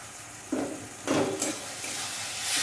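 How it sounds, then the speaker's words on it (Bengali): Potatoes stirred into a sizzling spice masala in a pan, with a steady frying hiss under two louder bursts of scraping and tossing, close and continuous. "আলুগুলো দিয়ে আমার কিছুক্ষণ একটু নাড়াচাড়া আর"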